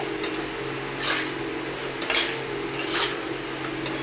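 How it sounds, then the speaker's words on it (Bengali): Metal spoon scraping and clinking against a wok while vegetables are stirred with spices, a steady close scrape with a few sharper clinks, no talking. "এবার সবজিটা আমি মশলার সঙ্গে ভালো করে নাড়াচাড়া করে নেবো।"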